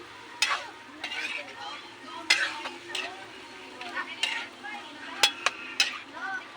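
Chicken necks cooking in a pan are stirred with a spoon. Several sharp clinks and scrapes against the pan sound over a soft, quiet sizzle.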